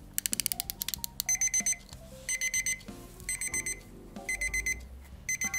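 A quartz alarm movement fitted into a crystal boudoir clock rings with fast, electronic beeping bursts, clustered in repeated groups after a brief run of quick clicks, fairly close and alone.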